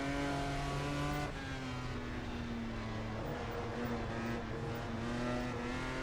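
A classic race car engine drones and revs hard through a corner on a dusty track at a classic motorsport event, loud and close, with a throttle blip and sustained high-pitched whine.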